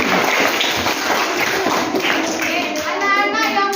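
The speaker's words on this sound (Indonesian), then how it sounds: "Ayo tepuk tangan untuk kawannya." A group of schoolchildren clap for a classmate during a class visit to the Islamic Pasai Museum, brisk and uneven close by, with young voices chattering through the clapping.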